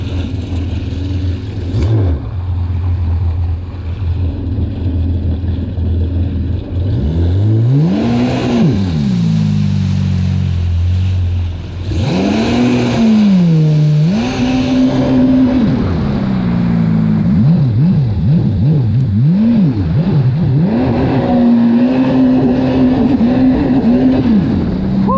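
A GPRSHO car engine with its check-engine light on revs loudly and close, climbing and dropping repeatedly, then holding a high, steady pitch near full RPM.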